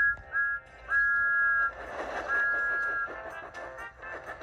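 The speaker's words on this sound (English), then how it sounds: "he blew his whistle loudly" A shrill cartoon steam engine whistle from Thomas the Tank Engine sounds in three tooting blasts, one short and two longer, over a busy chugging background.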